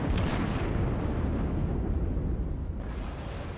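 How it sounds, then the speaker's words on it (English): Battleship naval guns firing and shells landing in World of Warships, a dense rumbling roar of blasts and impacts that swells loudly, eases, then surges again, with no talk. "More shots incoming."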